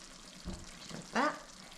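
Ginger and garlic sizzle in a pan for a curry while being stirred, giving a faint low sizzle with two brief scraping strokes, the second louder and sharper.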